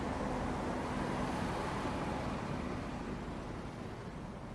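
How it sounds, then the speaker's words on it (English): Car traffic outside on a street makes a steady, broadband roadway rumble and hiss that fills the whole stretch, fairly distant and unbroken, with no voices heard. "I'm sorry, the cars are so loud."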